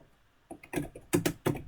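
Typing on a computer keyboard in a quiet room, with close, sharp key clacks arriving in a few irregular bursts after a brief silence.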